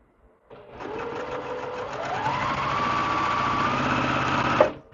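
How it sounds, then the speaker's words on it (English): A sewing machine stitches quilt block pieces together, a steady close mechanical whir running alone for about four seconds with a brief thump near the end. "flip them together, and sew them on"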